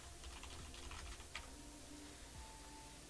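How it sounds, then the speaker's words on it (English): Faint keyboard typing while coding, quick soft key taps clustered early then thinning out over low room hum. "I need a better keyboard. I need to type better."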